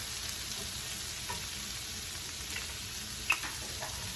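Jackfruit sautés in a pan for vegan pulled pork, a soft, steady frying sizzle at close range with a few light stirring taps and one sharper clink, and no one speaks.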